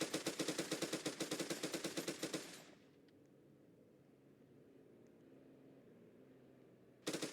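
Rapid automatic gunfire from the Roblox game ER:LC, a loud burst of evenly spaced shots lasting a few seconds, then quiet ambience before another short burst starts at the end.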